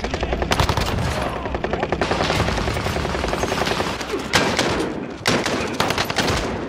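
Loud, dense gunfire in the shooter Warzone, a rapid unbroken barrage of shots with a few brief pauses, filling the whole stretch at close range.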